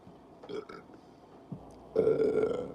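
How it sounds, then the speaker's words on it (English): A loud, drawn-out burp from a man during a live horror-film chat stream, rising sharply near the end and standing alone without talk over it. "Sorry, guys, I got a burp."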